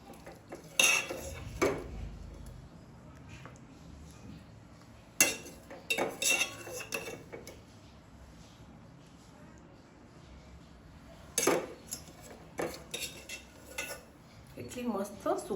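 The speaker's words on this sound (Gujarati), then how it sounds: "ચલો ફ્રેન્ડ આપણે નીકાળી લઈશું." Jowar methi handi is served out of the pot with a metal spoon, giving sparse clinks and scrapes against the vessel in a few short clusters with quiet gaps between, close but soft.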